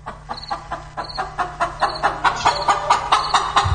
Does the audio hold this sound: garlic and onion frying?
no